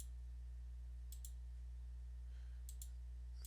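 Mouse clicks while working in CAD software, two quick pairs of sharp, faint clicks about a second and a half apart over a steady low electrical hum.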